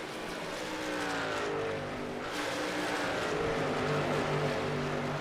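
Race trucks in the AER Truck Series at New Hampshire send up a steady, loud engine roar as they run out of turn 4 past the start-finish line, with several engines droning and rising in pitch together.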